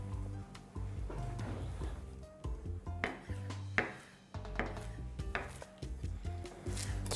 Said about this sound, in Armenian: սամիթ ենք կտրատում